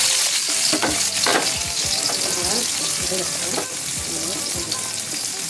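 Green chillies and other ingredients dropped into hot oil for an Indian cabbage fry, loud continuous sizzling with frequent stirring scrapes and clatter, close by.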